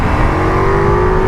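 A Royal Enfield Himalayan 450 motorcycle engine revs loudly and steadily at close range, its droning tone climbing slightly, with no voices.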